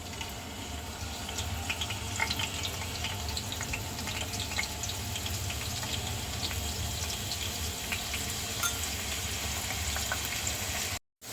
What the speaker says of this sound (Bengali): তেল গরম হয়ে গিয়েছে দিয়ে দিচ্ছি আলু